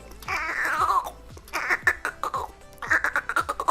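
A vocal imitation of a cat's meow, beatboxed in choppy, stuttering bursts, repeated several times with percussive taps, close and fairly loud.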